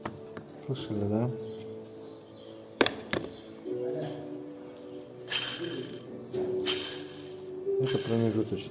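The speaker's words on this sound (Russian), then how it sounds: "Натяжной, у него идет такой небольшой шелест и хруст, и плюс еще биение." A worn tensioner pulley under the hood of a Volkswagen T4 van rustles and crunches with a wobbling beat, close up over a steady engine whine, with sharp mechanical clicks scattered through.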